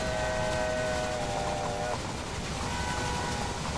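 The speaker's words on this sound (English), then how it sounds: "Here goes the passenger train." A passenger train rolls through the railway video game Railway Empire with a steady, loud mechanical rumble. Sustained whistle-like tones ride over it and drop away halfway through, and no one speaks.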